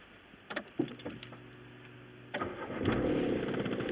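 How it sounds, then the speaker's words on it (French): A Nissan Juke starts using a keyless remote with a dead battery: a few clicks, then the starter cranks for over a second before the engine catches and settles into a steady idle close by. "Donc maintenant, je démarre le véhicule sans pile."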